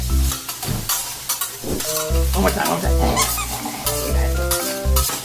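Loud sizzling and rhythmic scraping of a spatula tossing shrimp fried rice in a hot pan, with lively talk over the clatter.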